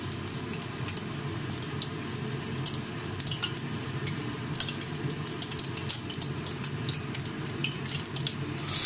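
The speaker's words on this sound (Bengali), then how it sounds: "এবার গরম কড়াইতে আমি আলুগুলো ছেড়ে দেবো" Potatoes for Bengali aloo posto sizzle and fry in a hot wok, a steady dense crackle with scattered sharper pops and faint utensil clinks, close and continuous without speech.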